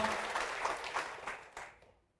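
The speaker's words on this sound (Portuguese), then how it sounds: "Vamos aplaudir ao Senhor, vamos aplaudir mais então." Clapping from a church congregation, dense at first and then thinning out and fading to silence within about two seconds.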